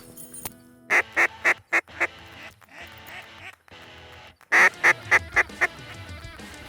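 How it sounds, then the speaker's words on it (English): Migrating teal ducks quack in two quick bursts of loud, repeated nasal calls, several sharp notes each, close by over a low outdoor background. "There's some teal here."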